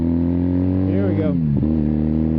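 A 1981 Kawasaki KZ440 motorcycle rides along with a steady, loud engine drone heard from onboard, its pitch dipping and rising briefly as the rider shifts.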